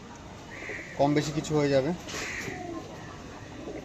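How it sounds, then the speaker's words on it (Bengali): Pet pigeons sold as a pair give a couple of close, throaty coos under a man's speech, with faint bird chatter behind. "দেখুন একটা পেয়ার পায়রা"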